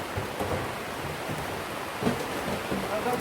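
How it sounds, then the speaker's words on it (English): Heavy rain drums steadily on the outside of a polytunnel, a dense, continuous hiss and patter throughout, with faint voices under it. "it's really raining."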